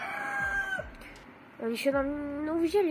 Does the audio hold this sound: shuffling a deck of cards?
no